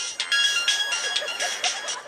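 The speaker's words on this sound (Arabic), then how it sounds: "سمحوا لي التليفون ديالي كيفوني ليا." A mobile phone ringtone plays at moderate volume during a comedy stage show in Marrakech, a bright repeating electronic melody pulsing in short bursts for a couple of seconds.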